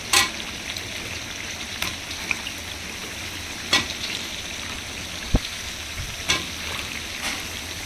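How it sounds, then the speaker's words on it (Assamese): Potatoes being added to a pan for soybean and potato pulao sizzle steadily and close, with a few sharper clicks and spatters rising above the continuous frying hiss. "আলু দি দিছোঁ, গোটেইখিনি আলুৱে দিম।"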